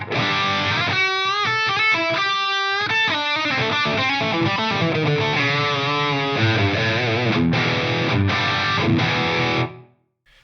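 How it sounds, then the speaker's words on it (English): Distorted electric guitar chords and riffs with reverb, ringing briefly after each stop before the short tails fade; plays continuously, then cuts to near silence. "those reverb tails on there, they're not that long"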